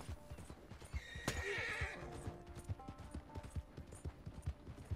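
A horse in the video game Red Dead Redemption 2 whinnies and neighs once, sharp and loud, amid a steady rhythm of hoof clip-clops that keeps going throughout.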